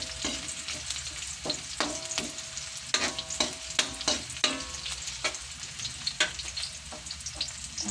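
Crushed garlic and onion sauté in a hot pan for adobong sitaw, a constant sizzle broken by repeated sharp scrapes and knocks of a spatula being stirred, with no speech.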